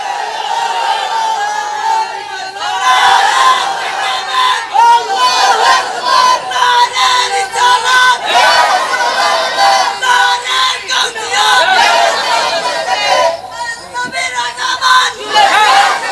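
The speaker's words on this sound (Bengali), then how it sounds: "একটা জোরে তাকবীর হবে" A large crowd at a religious gathering shouts in loud unison, a sustained roaring chant with rising and falling bursts of many voices close and dense throughout.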